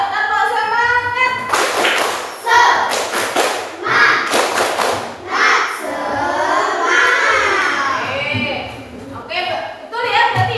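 A classroom group does a rhythmic spirit clap, bursts of sharp claps and thumps in a patterned beat, loud and close, with children's voices calling along between the clap sets.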